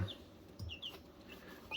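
Soft clucking and short chirpy calls from three-week-old chicks, scattered across a quiet background with a few brief louder peeps.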